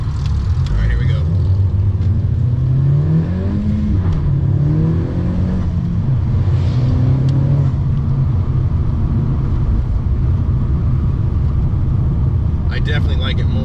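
2017 Honda Civic with a catless downpipe and muffler delete, its engine revving in rising and falling sweeps over a deep, raspy idle rumble, loud and close, with talking over it.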